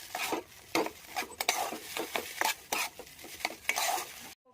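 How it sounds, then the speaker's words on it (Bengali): A spoon stirs ground chilli, turmeric and coriander in a frying pan, with rapid rhythmic scrapes and clinks against the metal over a faint sizzle. "একটু নাড়াতে থাকবো।"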